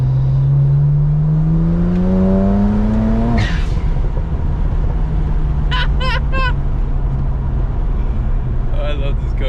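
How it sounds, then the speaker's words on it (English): A modified BMW engine revs up with a rising tone and then lifts off. Loud, close bursts of crackling exhaust pops follow under a constant cabin drone. "I got BMW pops."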